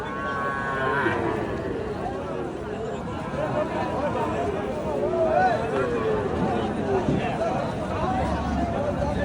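Cattle lowing at a cattle market with skinny calves for sale, moos rising over a steady crowd babble and nearby talk throughout.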